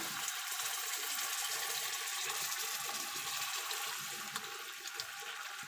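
Water is poured into a pan of fried masala with coriander powder and garam masala for potato curry. It makes a steady, rushing, hissing gush that lasts about six seconds, with no talk.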